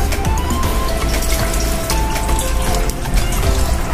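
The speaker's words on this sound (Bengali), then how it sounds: "গরুর মাংসটাতে আমি অল্প পরিমাণ পানি দিয়ে দিচ্ছে ফুপু।" Water streams into a pressure cooker over pieces of beef for khichuri, a continuous close splashing and gurgling pour that stays loud and steady throughout.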